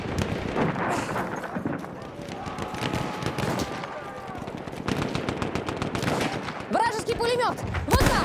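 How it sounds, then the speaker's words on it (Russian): Battlefield 1 battlefield combat with bursts of enemy machine gun fire rattling amid dense gunshots and explosions, voices shouting and talking over the continuous din. "Вражеский пулемет! Вот там!"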